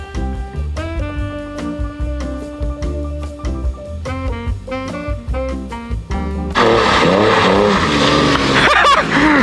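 An off-road Porsche 911 engine revs loudly and climbs through changing pitches during a test drive, then gives way to a burst of harsh broadband noise like gravel or wind rushing past.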